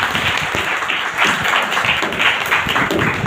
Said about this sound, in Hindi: आइए एक बार जोरदार ताली दीजिए।